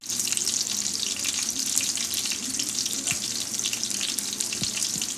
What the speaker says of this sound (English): Oil sounds.